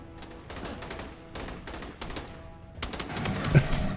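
Rapid bursts of automatic gunfire fill an Aliens: Colonial Marines firefight, a run of repeated shots that grows denser and louder toward the end.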